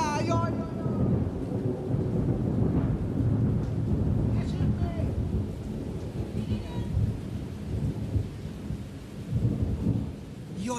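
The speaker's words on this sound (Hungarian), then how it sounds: "Hát amilyen gyorsan jött ez a zivatar, ez a zápor, el is ment" A heavy thunderstorm with a pounding rain shower, dense steady hiss of rain with low rumbling thunder rolling through, loud and continuous throughout.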